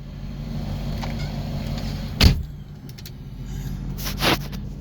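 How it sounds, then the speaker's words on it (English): Pop-up headlights on a car with MSD ignition open and close, two short whirring motor bursts a couple of seconds apart, heard close over a low, steady engine idle hum. "you see the headlights pop up and open, no problem."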